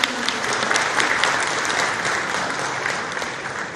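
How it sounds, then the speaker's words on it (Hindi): Loud, steady applause from an audience at a Madhya Pradesh government event marking ten years of the public service guarantee law, sustained clapping filling the whole stretch without voices. "एक बार जोरदार तालियां बजाएं माननीय।"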